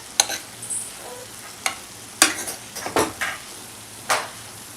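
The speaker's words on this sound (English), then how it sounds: "Mix the ingredients well on a slow flame and let it cook." Masala of turmeric, coriander and chili powder with bitter gourd being stirred in a pan over a slow flame, giving scattered scraping and clinking strokes over a faint, steady sizzle, close and without talk.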